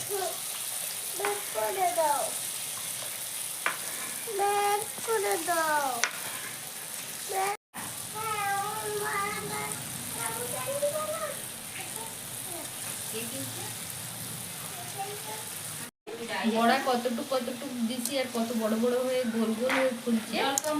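Palm fruit fritters (taler bora) frying in oil give a continuous sizzle under someone talking throughout, with two brief dropouts.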